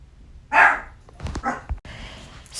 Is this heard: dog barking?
yes